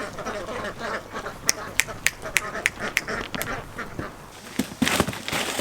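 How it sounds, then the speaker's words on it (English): Ducks quack in short, sharp bursts around a barn conversion building site, a run of evenly spaced calls near the middle rising to a louder cluster toward the end over steady outdoor background noise. "Once I've cleared the ducks out."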